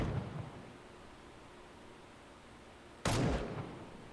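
A pistol in the Andromeda One Zombies video game fires a single loud, abrupt shot near the end, following a stretch of quiet hiss.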